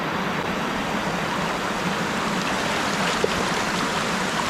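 A strong, rising mountain river rushes steadily while someone fishes, a loud continuous broadband roar of water with no pauses and no voices.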